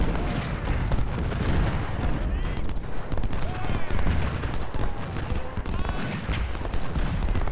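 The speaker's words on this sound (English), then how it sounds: "Oh my god, more artillery?" In the Ultimate General: Civil War strategy game, a dense battle plays out with massed musket volleys and artillery booms. The firing is continuous and rumbling at mid distance, with occasional whizzing projectiles over it.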